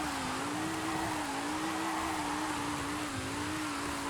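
A BMW Z4 driven in a video game holds a steady engine drone with a slightly wavering pitch, loud and continuous throughout with no pauses and no speech.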